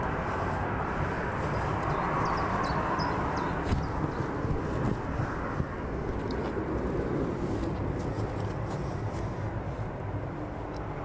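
A jet airliner climbing away after takeoff from East Midlands Airport, turning south: a steady, broad engine roar held at even loudness throughout, fairly distant, with no talking.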